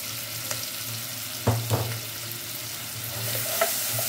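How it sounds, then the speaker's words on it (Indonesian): Garlic and onions sautéing in a pan for goat-meat nasi kebuli, a continuous low sizzle with a couple of clear utensil clacks and stirring scrapes partway through, close up and with no talking. "Kita tumis sampai wangi ya Bunda."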